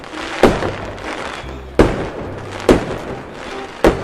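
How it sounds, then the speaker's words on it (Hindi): Four sharp firework bangs go off at irregular intervals, each a loud crack with a brief thudding decay over a quiet background. "बहुत बड़ा धमाका होता है"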